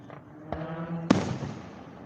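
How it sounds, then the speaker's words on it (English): Fireworks launched for a city celebration: two sharp bangs about half a second apart, the second louder with a crackling, rumbling tail that fades out, heard from a middle distance with faint background noise. "I'm glad at least you get to enjoy ours fireworks."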